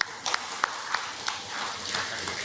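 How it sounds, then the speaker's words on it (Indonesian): Applause from a gathered audience at a Halal bi Halal family event at Blending Primary Krapyak, a brief patter of scattered claps that stays moderately loud and settles into a steady, light rattle. "Tepuk tangan"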